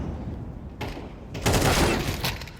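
In Counter-Strike 2 gameplay, a grenade blast and a sharp crackle of gunfire break through a low background. The loudest burst comes in the second half and lingers with a rough, noisy tail.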